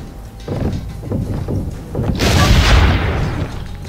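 Cannons firing in Assassin's Creed Brotherhood, heard as a string of rapid dull booms followed by a louder, broader blast with a rushing tail, close and heavy, with no talking.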